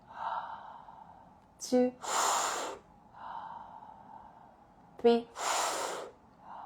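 Two long, audible breaths pushed out through the mouth during a breathing exercise, each one following a short, sharp inhale, while a person speaks softly in between.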